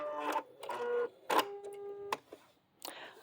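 A Bernette B-77 sewing machine stitches out a dense decorative stitch in several short mechanical bursts with a tonal motor whine, separated by brief pauses, close and fairly clear.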